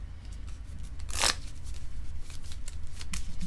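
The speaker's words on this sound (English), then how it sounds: "So I gotta shuffle." A deck of cards is shuffled during a tabletop card game match, one short crisp riffle burst standing out clearly over a steady low background hum.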